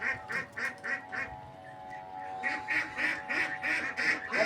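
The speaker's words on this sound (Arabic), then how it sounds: "هنا البط بقى زي ما انتم شايفين كده مقتحم السطح كلها" Ducks on a rooftop quack and honk in a rhythmic series of calls, fairly close, with a short lull midway and a faint steady hum beneath.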